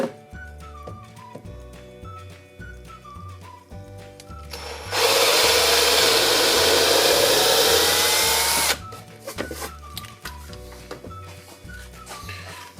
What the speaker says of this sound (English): We'll use the same 1/8 inch drill bit.